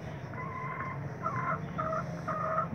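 White broiler chickens, about 36 days old, make a run of short, repeated calls that rise over a steady, moderately loud flock murmur.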